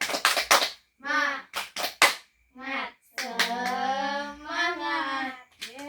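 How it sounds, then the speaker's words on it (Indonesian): A school class performs a spirited clapping routine, sharp hand claps in quick bursts alternating with children chanting together in unison, close and lively. "Tepuk semangat dulu ya."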